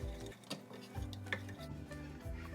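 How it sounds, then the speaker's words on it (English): Spoon stirring melting chocolate sauce thinned with coconut oil in a pot, with soft scraping and clinking strokes repeating steadily through the moment, close and fairly quiet, no talking. "And keep stirring till it melts."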